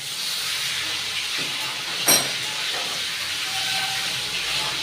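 Rupchanda fish fries in oil in a pan over medium heat, giving a steady, even sizzle with one brief sharp clink partway through.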